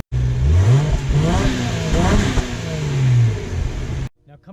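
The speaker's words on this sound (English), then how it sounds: "press this button on the key fob twice, make sure the car is locked, and it'll start right up for you" A 2018 Subaru Legacy 3.6R's engine starts by remote start from the key fob, with a brief crank and then a rising rev that dips and swells before settling, close by, and cuts off abruptly near the end.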